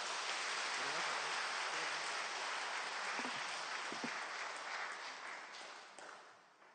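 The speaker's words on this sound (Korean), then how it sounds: "큰 박수로 맞아주시면 감사하겠습니다." Full, dense applause from a church congregation welcoming a lecturer at a Holy Spirit seminar, a sustained wash of clapping that gradually tapers off toward the end.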